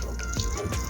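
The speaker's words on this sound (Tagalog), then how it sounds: "At lalagyan po natin ng warm water." Warm water poured over meat that was frozen with ice, a steady close liquid trickle and drip lasting under a second, fairly loud throughout with no talking.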